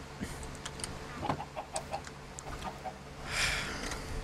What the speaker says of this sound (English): Splendid, beautiful chickens.